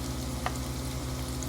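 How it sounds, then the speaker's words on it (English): Breaded pork loin frying in cornmeal gives a steady, close, moderate sizzle with a low, constant hum beneath it. One brief sharper crackle stands out partway through, and no one speaks. "frying with cornmeal is common"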